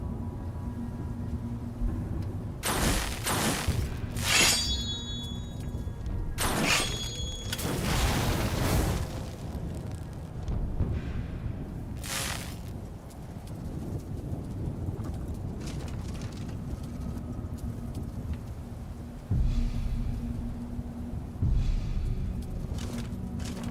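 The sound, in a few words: Lightning Nova spell cast in Skyrim (LoreRim) video game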